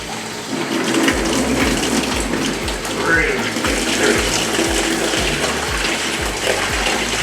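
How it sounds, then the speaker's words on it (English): Water gushes and splashes as it is dumped out of a bag holding a red-tailed catfish, a continuous pouring rush close by with a rhythmic low throbbing underneath. "We're going to dump out the water first."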